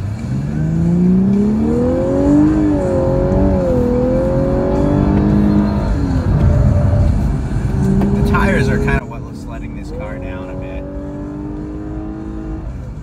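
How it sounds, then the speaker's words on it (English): A 2018 Lexus LC500h hybrid coupe accelerating hard around the Circuit of the Americas F1 track, its engine note climbing and dropping through gear changes under steady cabin speech, then easing to a quieter drone near the end. "Let's see how fast this car is here."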